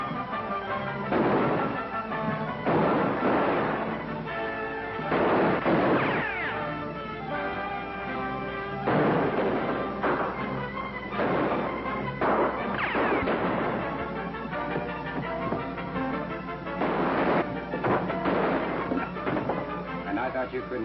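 A gunfight in a 1945 western film, with a series of sharp, loud gunshots in uneven bursts over a steady soundtrack background.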